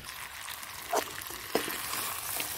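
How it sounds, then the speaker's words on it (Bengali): Meat and potatoes sautéing in a pan give a soft, steady sizzle with a couple of brief stirring clatters, fairly quiet and heard alone. "মাংসটা তো সুন্দর কষানো হয়ে গেছে, আলুটাও দিয়ে দিলাম।"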